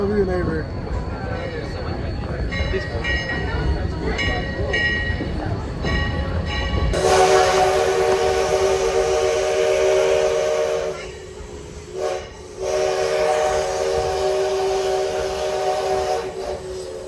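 A train passes with rumbling rail noise, then a loud, sustained steam-style whistle sounds, dropping out briefly before blowing again.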